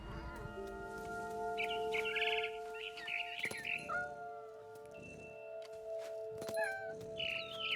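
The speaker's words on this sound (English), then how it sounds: "Then I heard chirping outside my window. It was a barn swallow going back to her nest." Barn swallow chirping in the video game What Remains of Edith Finch, bright bursts of twittering over a steady tonal hum and soft ambient game sounds.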